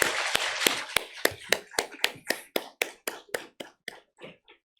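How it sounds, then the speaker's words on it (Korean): A church congregation at a Korean afternoon praise service clapping in unison, about sixteen sharp, evenly spaced claps in a steady rhythm that fade out toward the end. "우리 하나님께 영광의 박수를 올려드리겠습니다."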